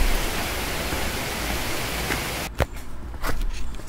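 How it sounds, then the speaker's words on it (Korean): A mountain stream flows along the Seoraksan trail with a steady, close rushing hiss. A brief knock and a slight lull come near the end, then the water continues. "한참 동안 시원한 물소리를 들으며 내려가는 즐거움이 있었습니다."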